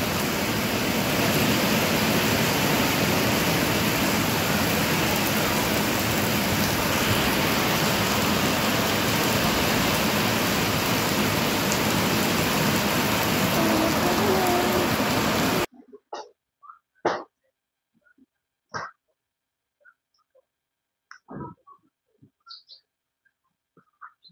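Rain falls steadily as a dense, loud hiss on a home during Dasara cleaning, then stops abruptly, leaving scattered faint knocks and thuds from nearby activity.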